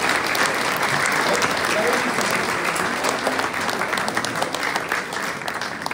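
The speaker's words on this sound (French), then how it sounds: "On peut l'applaudir." At a ceremony in Aulnay-sous-Bois awarding the national Order of Merit, the audience breaks into loud, close clapping, a thick crowd patter that holds for several seconds and starts to thin at the end, with some voices among the hands.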